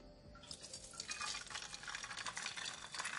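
An egg goes into hot oil and fries, producing a steady, close hiss and crackle that starts abruptly and keeps going evenly.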